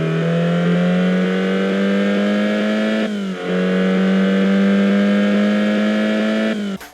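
A Corvette engine in the racing game Corvette Evolution GT, a loud steady droning rev that briefly drops for a gear shift midway, then climbs again before cutting off.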